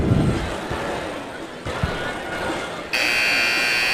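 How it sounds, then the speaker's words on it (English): Crowd murmur fills a gym during a high school boys basketball quarterfinal, then a loud, sustained electronic buzzer sounds and holds until the end. "As there's the buzzer, it'll be Regis to inbounds."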